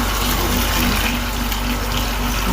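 Water from a ritual kalash being strained during a Hindu kalash immersion, pouring steadily and continuously at close range without pause.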